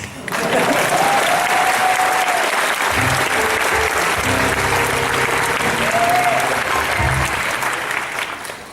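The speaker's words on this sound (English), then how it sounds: "You can applaud now." An audience at a story-hour stage show at the EF 22 convention bursts into sustained applause, a dense, even wash of clapping that holds for several seconds before tapering off, with a few faint voices mixed in.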